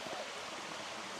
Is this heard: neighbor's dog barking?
no